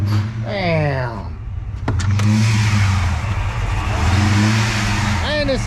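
A modified Ford Mustang SN95 GT with aftermarket heads revs up loudly close by, the engine rising and falling in pitch with a rough, choppy idle between pulls, while a voice briefly speaks over it.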